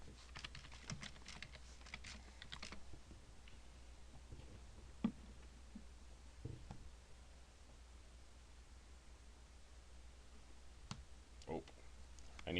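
Fingers typing a command on a computer keyboard, a quick run of light clicks at the start followed by scattered keystrokes over a steady faint hiss, with no talking.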